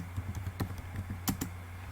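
Keys clack on a computer keyboard as commands are entered, several quiet, close, irregular taps over a faint steady hum.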